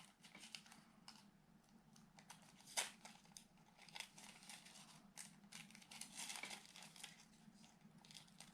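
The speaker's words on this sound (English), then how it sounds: "you're gonna take a scissor, and now you're gonna cut, and you're gonna cut very close to the image" Scissors snip paper in short, close, irregular cuts around an image for pebble art, faint crisp clips and paper rustling over a low steady hum.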